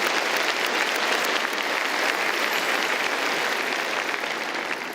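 A large audience at a University of Waterloo Faculty of Engineering graduation ceremony claps steadily and loudly, a dense, even wash of applause that carries on without a break from start to finish.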